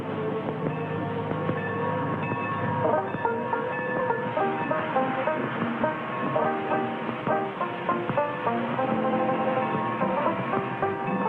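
A narrow gauge train arrives, rumbling along with a dense, steady mechanical clatter and rolling noise, sustained and fairly loud throughout, with no voices.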